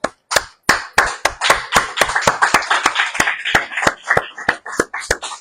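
Rhythmic hand clapping from a church congregation during a service, sharp loud claps in a steady beat at first, growing denser and more overlapping, close and clear with no talk.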